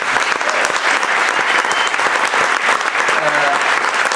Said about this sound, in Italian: vorrei un gesto di applauso